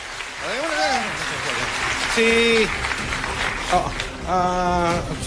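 A crowd at the 2016 Philippine presidential debate applauds, a steady roar of clapping with scattered shouts and cheers mixed in throughout.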